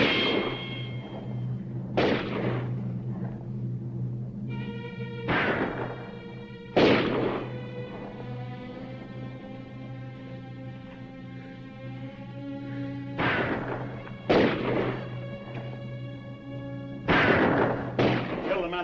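Gunfire in a 1950 western film shootout: several sharp shots spaced irregularly across the scene, each a loud crack over a steady music score, fairly close.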